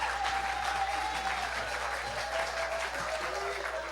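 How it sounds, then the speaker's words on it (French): Audience at a church gathering applauding, a dense continuous clapping that holds steady throughout, with voices mixed in underneath. "acclamez bien vous aussi"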